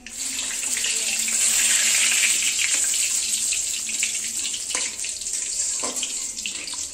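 A dried red chili dropped into oil already heated in a home kitchen pan, giving a steady, close sizzling hiss that swells early and then holds evenly throughout.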